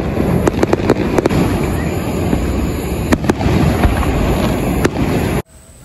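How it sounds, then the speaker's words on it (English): Fireworks go off at the Watermelon Carnival in Water Valley, Mississippi. Sharp booms and crackles pop irregularly over a loud, continuous outdoor rumble, and the sound cuts off abruptly near the end. "Here goes the fireworks show."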